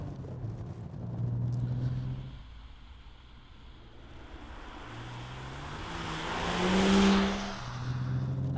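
BMW M135i engine revving and accelerating on a wet road, a steady mid-level drone that swells to a louder rev near the end, with tire and spray noise around it and no talking.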